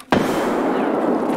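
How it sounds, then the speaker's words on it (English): A grenade detonates in Escape from Tarkov with a single sharp, loud blast that rolls into a sustained roar and debris-filled rumble, filling the whole moment with no talk over it. "Watch out! Grenade!"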